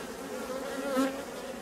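Honeybees buzz at an open hive, a steady close drone that swells briefly as a bee passes near, with no talk.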